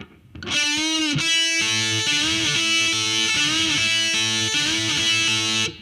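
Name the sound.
two pentatonic guitar licks played together slowly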